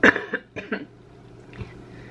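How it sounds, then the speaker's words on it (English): A few short, harsh throat-clearing bursts in quick succession, close by, then quiet. "I'm gonna clear my throat, I'm so sorry."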